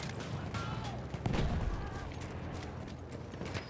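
Gunfire in the video game Battlefield 1, a dense crackle of shots and muffled booms layered over a constant battlefield rumble, with one heavier burst midway.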